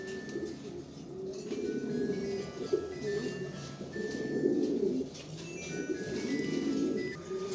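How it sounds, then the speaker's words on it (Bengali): Several grizzle pigeons, among them a female, coo in low, rolling phrases that swell and fade in waves, steady and fairly close, with a faint higher chirp or two above. "এই দেখেন একটা মাদি কবুতর, হ্যাঁ গ্রিজেল মাদি দেখেন।"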